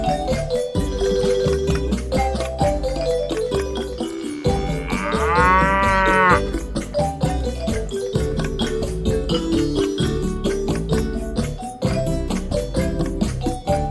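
Dairy cattle moo loudly and close, a long drawn-out low call rising in the middle against a backdrop of other lowing and farmyard clatter.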